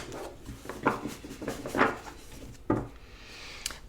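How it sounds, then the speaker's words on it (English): A few soft, papery riffling bursts spaced about a second apart, a deck of tarot cards being shuffled close by in a quiet room. "Let's give it one more shuffle."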